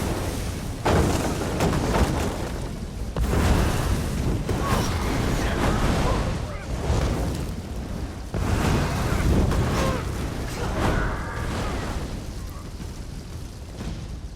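Siege weapons are destroyed in the video game Elder Scrolls Online, with repeated heavy booming explosions that come in several loud surges, each followed by rumbling debris.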